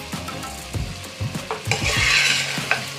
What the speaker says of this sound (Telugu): ఒక్కసారి మంచిగా కలుపుకుందాము